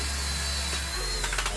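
A handheld power drill whirs steadily while removing rust from metal, close and continuous with faint scraping near the end.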